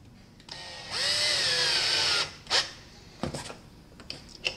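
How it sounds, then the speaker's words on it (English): A cordless drill driving a threaded insert into wood, a rising whine held for about a second before stopping, followed by a few short clicks and knocks of handling. "Put one in your cordless drill."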